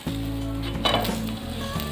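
A fasting-style dosa on a hot pan being flipped over, a brief scrape and clatter followed by a steady close sizzle, with a low hum underneath and no talking.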